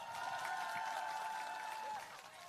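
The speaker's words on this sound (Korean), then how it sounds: "박수 한번 다시 한번 크게 부탁드립니다." An audience at a political talk show in Ulsan applauds steadily, fairly faint and distant, with a thin sustained tone through most of it before the clapping eases off near the end.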